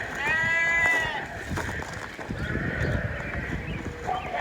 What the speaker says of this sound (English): I know you belong in with this group of sheep.